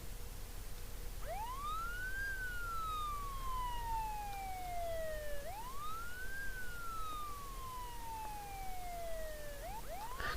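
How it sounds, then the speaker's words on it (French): A wailing American siren rises and falls slowly in long sweeps, repeating about three times, steady and fairly loud over a low background hum. "Donc c'est une sirène américaine."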